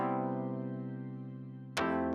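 A held synthesizer keys chord from a "Dripping Keys" preset in Ableton rings steadily and softly, then a sharp new note attacks near the end, bright and sudden.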